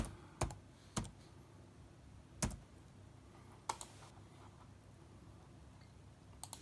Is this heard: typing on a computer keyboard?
yes